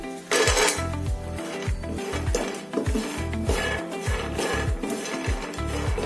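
Coconut is roasted in a pan on a low flame and stirred, with a rhythmic run of loud, close scrapes and knocks of a utensil against the pan and no voices.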